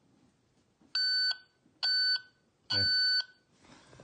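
An ignition timing tester hooked to the points on a 1978 Honda ATC 90 gives three steady electronic beeps, evenly spaced and loud, with a brief spoken word.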